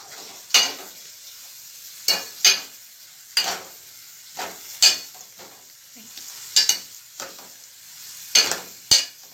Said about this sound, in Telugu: సో నేనైతే ఆనియన్స్ వేసేసుకున్నాను అండ్ ఫ్రై చేద్దాం.